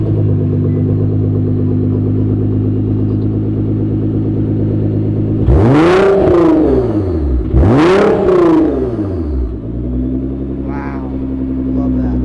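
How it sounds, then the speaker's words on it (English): A 2016 Nissan GT-R's exhaust rumbles at idle, then revs hard twice in quick succession, loud and close, before dropping back to a steady burbling idle. "See this car ripping in action, maybe a little POV, hear the exhaust and everything"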